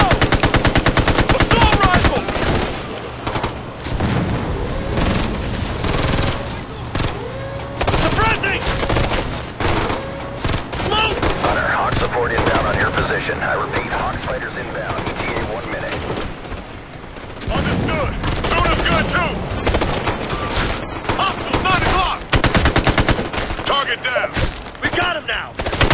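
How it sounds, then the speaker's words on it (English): Heavy automatic gunfire from a Ghost Recon Future Soldier battle in Russia's Caucasus, sustained and loud for the whole stretch, with dense overlapping bursts and occasional thuds as squad voices shout over it. "Under heavy fire."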